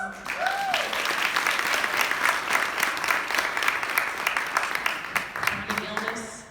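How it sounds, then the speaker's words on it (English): A retreat audience claps for cancer survivors in the room, a full, sustained round of applause that holds steady throughout before tapering slightly at the end. "give these people a round of applause."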